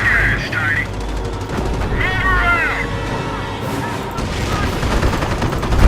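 A machine gun nest rattles off fire in Company of Heroes during the Normandy invasion at Cherbourg, a dense continuous battle din with overlapping shots, engine rumble and distant shouting voices.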